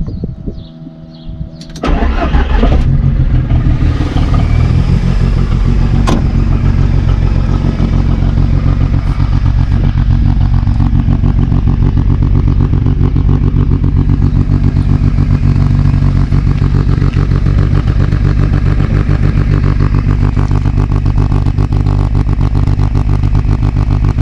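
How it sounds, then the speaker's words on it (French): A Volkswagen Golf 2 with a swapped 1.8 turbo engine starts with a brief clatter, then idles steadily and loudly, with occasional revs rising and falling. "Je vais te faire tourner un peu le moteur"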